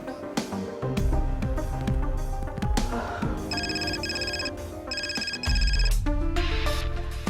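Landline telephone ringing in a home while being called, a repeating electronic ring in two clear bursts over a busy background of music or room noise.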